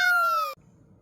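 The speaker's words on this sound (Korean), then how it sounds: "고양이." A cat gives a single clear, drawn-out meow up close in a home kitchen, sliding gently downward in pitch before cutting off into quiet room noise.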